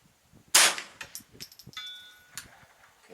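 A single sharp Ruger 10/22 rifle shot fired toward a distant target, loud and abrupt, followed by quieter clicks and a faint metallic ring.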